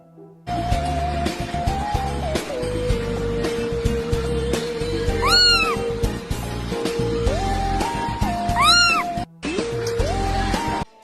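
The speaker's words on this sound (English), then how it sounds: "let me get the cat video out, because I'm scared" A cat meows repeatedly in a clip played back during a Doki Doki Literature Club game session, several drawn-out meows over a steady music bed with an abrupt cut near the end.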